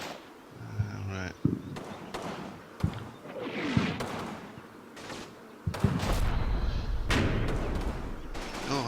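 Mortar rounds exploding in a Combat Mission war game battle, several heavy booming impacts scattered over a steady rumbling backdrop with a voice talking throughout.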